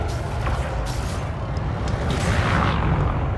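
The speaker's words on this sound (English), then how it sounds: "in one volley with the frag cannons" A frag cannon volley in the space combat game Elite: Dangerous, a dense, loud rumbling boom that rolls on steadily for several seconds without a break.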